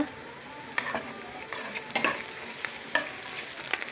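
Ginger garlic paste fries in oil in a pan with green chillies, giving a continuous crackling sizzle and a few distinct scrapes of a stirring spoon, close up and without talk.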